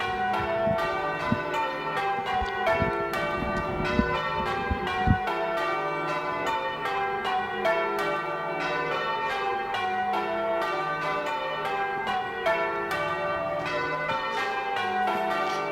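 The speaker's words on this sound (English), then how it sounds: "It's time. It's the Canal Street Bells." Church bells of the Canal Street bell tower in New York ring continuously, a dense peal of overlapping tolls filling the street, loud and steady throughout with no talking.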